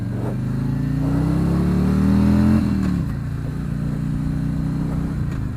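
A 2018 Harley-Davidson Street Glide accelerates hard in first gear toward redline, its loud, close engine note rising steadily and then dropping sharply as the revs fall and it settles into a lower drone.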